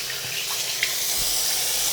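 Tap water runs into a bathroom sink, a continuous bright splashing hiss that stays steady and close, with one small splash standing out briefly near the start.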